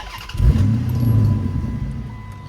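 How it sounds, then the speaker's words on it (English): A car engine cranks briefly, catches with a loud rising roar, then settles into a steady idle rumble. The sound is close, with no voices. "we're gonna start back up the car"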